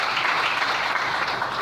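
A church congregation applauds together, dense continuous clapping from a large crowd that fills the space evenly throughout.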